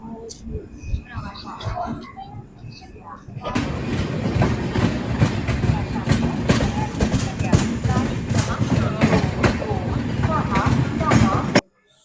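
A moving AC express passenger train in central India rumbles steadily with rhythmic clatter and a broad roar inside the carriage, continuous for several seconds before cutting off abruptly.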